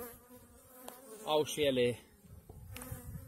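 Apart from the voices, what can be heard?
honeybees buzzing, queen piping in a barrel hive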